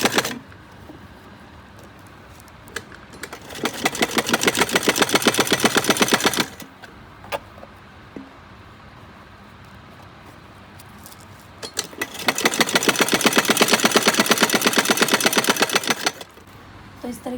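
A sewing machine runs straight stitches along a fabric strip in two long rapid bursts of rattling needle strikes, separated by a quiet pause with faint handling noises, close and loud.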